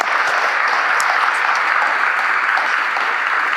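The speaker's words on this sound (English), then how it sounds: "why don't we give a big round of applause for Chris Stone?" An audience at a lecture breaking into sustained applause, a dense, loud wash of many hands clapping at once that runs steadily without a pause.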